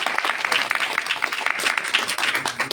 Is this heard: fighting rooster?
no